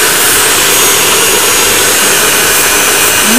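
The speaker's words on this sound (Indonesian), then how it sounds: "Sekarang kita mulai mixer. Kita mixer sampai kalis." An electric dough mixer kneads pizza dough with a loud, constant whirring roar, steady and unbroken throughout.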